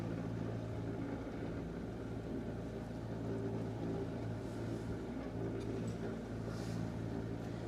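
A sailboat motoring at sea on a solo Atlantic crossing, its engine giving a faint, low, continuous drone with a steady hum under soft background noise.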